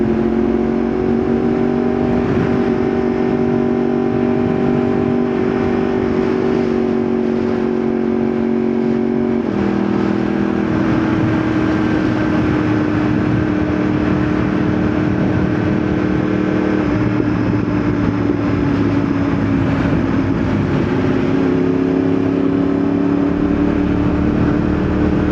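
Motorcycle fitted with an Akrapovič exhaust cruising on a scenic road, its engine a loud, steady drone with gentle pitch rises and falls as the throttle shifts, recorded up close with heavy wind rush.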